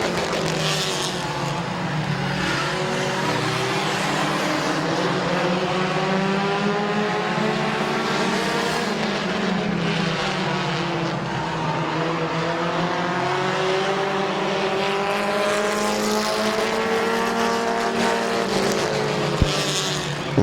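Race cars roaring around the oval at Midvale Speedway, with steady, loud engine drone that rises and falls in overlapping pitch as cars drive deep into a turn, continuous throughout with no talk.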